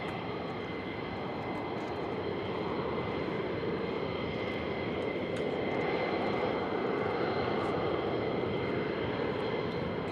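A military jet at RAF Lakenheath fills the air with a broad, sustained engine roar that stays fairly even in loudness, heard from a distance outdoors with no one speaking.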